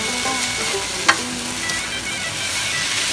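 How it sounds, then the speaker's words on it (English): Minced pork and Thai basil stir-frying in a hot pan, a dense continuous sizzle with a brief scrape or clink partway through, close and loud with no speech. "Stir frying."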